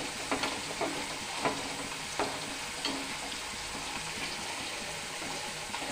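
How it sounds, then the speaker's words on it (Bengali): Taro corms are stirred in water in a pot while a sour taro dish cooks, giving a steady run of scraping, swishing strokes over a soft continuous sizzle, close and moderately loud with no talking. "ভালো করে নেড়ে জলের সঙ্গে মিশিয়ে নেব"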